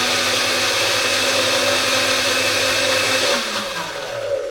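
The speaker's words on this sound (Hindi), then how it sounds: "यही एक लौता स्पेस मुझे ऐसा मिला है जिसके पास मैं स्विच लगा सकती हूँ और यहाँ पे मिक्सी चला सकती हूँ" Kitchen mixer grinder whirring as it blends Japanese pancake batter, a loud steady motor whine close by that dips and wavers near the end, with no talk.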